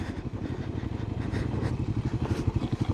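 Kawasaki KLX300 dirt bike engine on a San Diego trail, a close, rapid single-cylinder thrum pulsing steadily and growing slightly louder, with wind noise over it.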